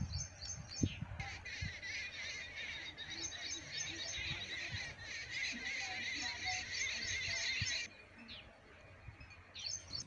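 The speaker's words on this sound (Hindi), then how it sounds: "कीड़े मकोड़ों के शोर वे पक्षियों के कलरव को आप थोड़ा सा महसूस करें।" Birds chirp and insects buzz in a fennel field with plants four to six feet tall in Rajasthan's Nagaur district: a bright insect drone that holds steady for several seconds and then cuts out, with faint scattered bird calls and soft low rustles, quiet and distant.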